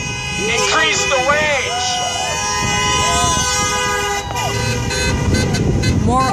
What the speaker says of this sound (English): honking at us